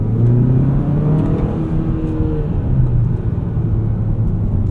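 Steady, loud four-cylinder drone from a 2024 Hyundai Sonata N Line's 2.5-liter engine, heard from inside the cabin, rising and falling in pitch with throttle, with no talk over it.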